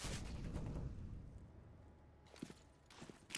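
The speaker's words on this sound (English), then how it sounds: "Here comes the nades." Grenades go off during a Counter-Strike professional match, a heavy low rumble fading out, followed by a few sharp distant thuds and impacts.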